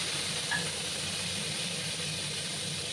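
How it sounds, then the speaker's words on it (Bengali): Pointed gourd and potato pieces frying in oil in a pan, a continuous soft sizzling hiss held steady throughout, close and fairly quiet. "এবার আমি দেখো পটল আর আলুগুলো একটু ভাজবো"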